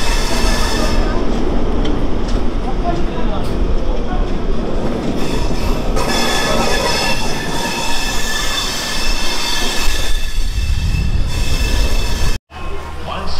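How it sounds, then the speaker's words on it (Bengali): The Coromandel Express passenger train running into MGR Chennai Central railway station, a loud, close, continuous rumble of wheels on rails with steady squealing, then a brief drop near the end. "আমাদের ট্রেন করমণ্ডল এক্সপ্রেস এসে পৌঁছে গিয়েছে MGR Chennai central railway station"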